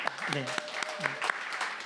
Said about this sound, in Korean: 우리 박수로 좀 축하해드립니다.